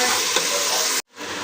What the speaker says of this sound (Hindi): अब इस अंदर मैं ना चिकन डाल दूँगी ताकि चिकन भून जाए अच्छी तरह से